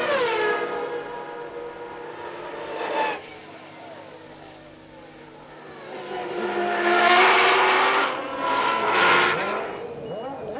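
Formula 1 cars racing in the 1993 season, engines howling past in rising and falling pitch sweeps, one near pass early and a louder cluster of cars screaming by later, with faint commentary underneath.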